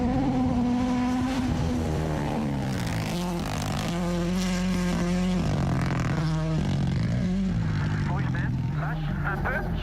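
A WRC rally car on a gravel shakedown stage at Safari Rally Kenya, its engine note rising and falling with gear changes as it passes, with commentary talking over it throughout.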